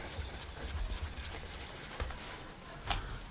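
Fine-grit sandpaper rubbed by hand over corroded, pitted metal on a Harley-Davidson Sportster XL883C, making a steady, close scratchy rasp in repeated back-and-forth strokes with one sharper scrape near the end.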